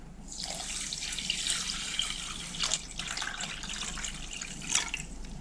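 One litre of water runs steadily from a tap into a pot for a pickling marinade, a continuous splashing flow with small bubbling bursts, close and moderately loud.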